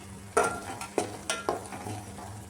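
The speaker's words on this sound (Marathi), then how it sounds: "तर आता मसाला जरा वेळ परतू देते आणि मग त्यात टाकून घेते मटण" Masala for a mutton curry being stirred and fried in a pan, a few distinct scraping stirs with a steady soft sizzle underneath, close and fairly quiet, no talking.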